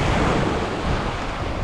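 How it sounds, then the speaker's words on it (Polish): Sea waves washing onto the morning beach at Kumkoy near Side, Turkey, a continuous close rush of surf and wind, loud and alone. "Ta woda podchodzi tu pod same buty, żeby mnie tu nie zmokło."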